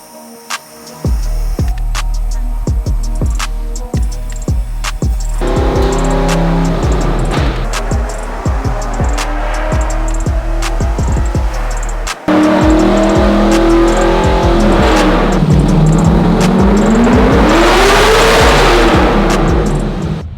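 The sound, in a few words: car engine revving on a dyno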